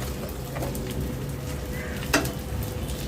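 Ivy gourd roasting in oil in an uncovered pan over a low simmer, a steady soft sizzle with an occasional stir or utensil tap against the pan.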